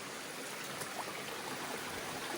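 A stream of water runs beside the Appalachian Trail, a steady, fairly faint rushing wash with no talking.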